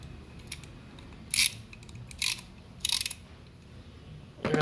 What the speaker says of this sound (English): And we have a 2 ratchet wrench, 1/2 drive.